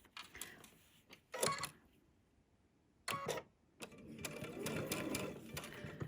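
A sewing machine stitches quilt fabric for a Tula Pink butterfly quilt using a quarter-inch presser foot, in short rapid bursts separated by pauses, close and fairly quiet.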